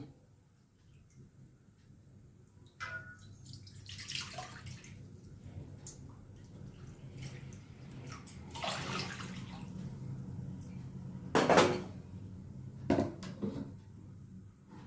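Water splashes and pours into a cooking pot in several short bursts, close and fairly loud, separated by quiet pauses with faint handling noises.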